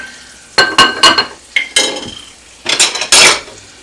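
All-purpose flour browning in a pan for country sausage gravy, heard as scraping and stirring with a utensil against cookware: several bursts of clinking and scratching with short pauses between them, close up and with no talking.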